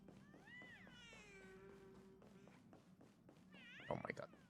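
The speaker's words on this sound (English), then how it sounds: "Oh my god. Cat noise." A cat gives a few drawn-out, rising-and-falling meows, with a person talking faintly around them and a short clatter near the end.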